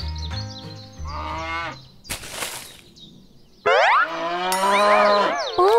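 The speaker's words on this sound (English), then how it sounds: "Oh, the cows are being picky about the hay." Cattle moo repeatedly in a farm setting where hay is being delivered, with several drawn-out, wavering calls of varying pitch, loud and close, separated by brief pauses and a sharp clatter.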